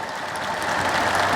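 Audience applause at a sermon, a dense, steady wash of many hands clapping together, sustained and fairly loud throughout with no voices on top.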